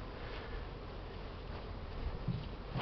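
Honey bees buzz around a beehive in spring, a soft, steady drone that continues without talk.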